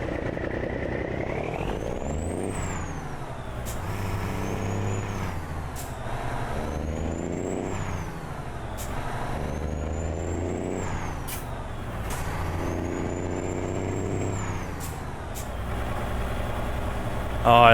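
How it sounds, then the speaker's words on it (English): A Freightliner FLB heavy truck engine in the video game American Truck Simulator drones steadily, revving up and down through gear changes, with sharp hissing bursts like air brakes at intervals. "Oh, I love the engine in this thing."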